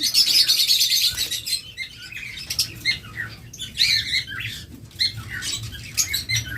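A breeding pair of pet lovebirds or budgerigars, opaline variety, chirp and squawk near the microphone in rapid, busy bursts, with a continuous chatter of higher tweets and harsher calls; no talking.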